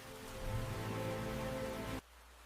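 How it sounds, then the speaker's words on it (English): Heavy monsoon rain pouring onto a red-whiskered bulbul's nest on a swaying branch, a dense steady hiss of falling drops that cuts off abruptly near the end, leaving faint low background. "The heavy rain slides off her back"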